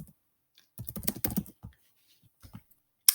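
Computer keyboard typing in a short burst of quick clicking keystrokes near the microphone, with a few scattered taps afterward and a sharp click at the end, no voices.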